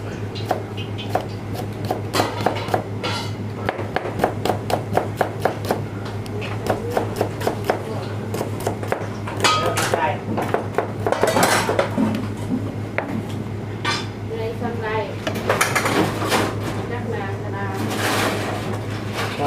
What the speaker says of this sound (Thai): คะนาเราจะหั่นเป็นแว่นเป็นแว่น